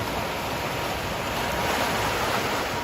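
Aeration bubbles churning in an activated sludge tank with a mixer at a sewage treatment plant, a steady dense wash of rushing, bubbling water filling the whole stretch with no pauses and no voices.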